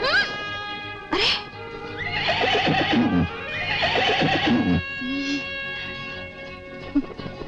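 A horse neighs loudly and close in long, shaky whinnies, with hooves clopping and a voice speaking under the sound.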